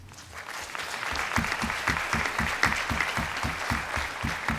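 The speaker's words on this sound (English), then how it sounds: "Give him a round of applause." An audience at a conference session breaks into steady applause, building over the first second into dense, even clapping that continues throughout.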